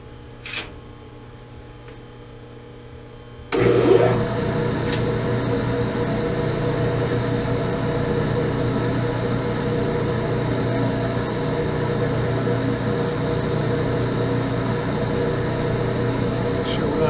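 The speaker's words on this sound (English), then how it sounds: "And fire up the lathe, and we'll part it off." A metal lathe in a home shop starts up and runs steadily while parting off a workpiece, a sudden onset followed by a continuous loud mechanical hum and whine with no talk over it.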